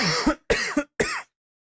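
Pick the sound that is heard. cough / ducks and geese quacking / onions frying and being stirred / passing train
cough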